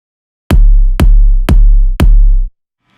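Four heavy synthesized kick drum hits from Metrum, evenly spaced and loud, each a deep booming thud with a sharp attack and a sustained low tail that runs into the next.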